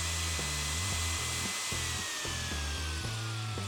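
A Ryobi 10-inch 15-amp table saw runs with a loud, steady motor whine and blade hum that fills the whole stretch, with a pitch sliding slowly lower and rhythmic pulsing beneath.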